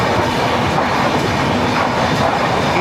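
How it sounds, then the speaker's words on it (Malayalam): The Nizamuddin–Madgaon Goa Sampark Kranti Express rolls past Pattan Road station with a continuous loud roar, a steady rumble of wheels and rail clatter throughout. No voices are heard. "നിസാമുദ്ദീൻ മഡ്ഗാവ് ഗോവ സമ്പർക്കം എക്സ്പ്രസ്."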